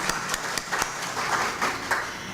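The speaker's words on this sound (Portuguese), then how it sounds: "Vamos aplaudir esses leitores, então, que leram isso." Audience at a Spiritist book panel gives brief, scattered applause for readers, a few distinct hand claps rising into a light patter in a room.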